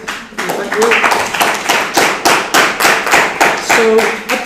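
An audience claps in a business talk setting, a brief round of applause with distinct, fairly close claps in an uneven rhythm.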